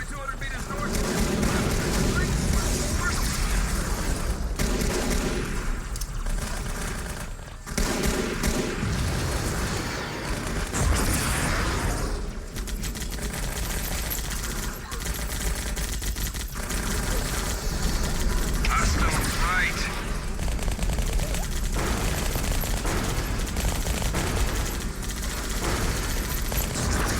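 Xbox war game combat with hostile artillery and gunfire, a dense continuous roar of explosions and shots under radio-style voices speaking throughout.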